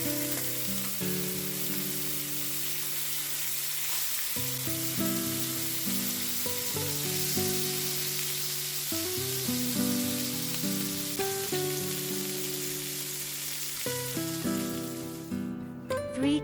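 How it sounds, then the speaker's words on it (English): Butter sizzles in a hot pan while pork is cooked, a steady soft hiss running continuously under louder background music. "Add butter."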